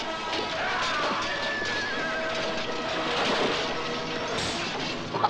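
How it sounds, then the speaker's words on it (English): A horse neighs in a water scene from a medieval Lancelot film, its whinny rising over a dense, loud wash of splashing, music and action noise. "That guy was in serious danger of being trampled by that horse in the water."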